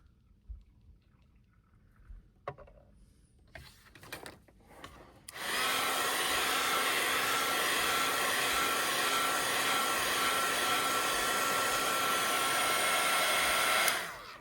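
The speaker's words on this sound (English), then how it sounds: "Now, that was a heat gun." A heat gun blows steadily for about nine seconds while drying alcohol ink on paper, loud and constant. Faint handling noises come before it, and it cuts off abruptly at the end.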